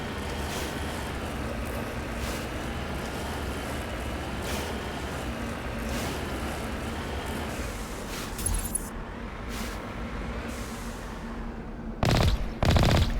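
Turret gunfire in Mass Effect, a steady sustained rattle of rapid automatic fire running continuously under a low rumbling vehicle-like drone, with a few louder sharp bursts near the end.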